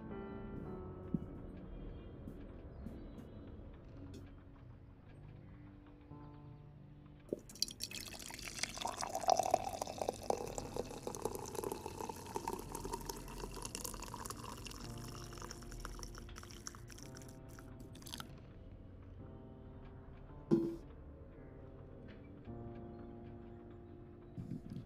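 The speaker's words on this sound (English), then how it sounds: "I'm gonna pour some coffee." Coffee is poured from about the eight-second mark, a steady liquid stream that rises in pitch as the cup fills, running for several seconds before tapering off, with a sharp click or clink near the end.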